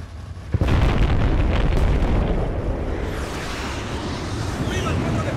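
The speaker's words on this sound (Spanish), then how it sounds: "Nos estáis lanzando bombas inteligentes aquí." Smart bomb explosions in the video game Battlefield Bad Company 2: a sudden loud blast followed by a long, heavy rumbling roar that fades slowly, with faint speech underneath.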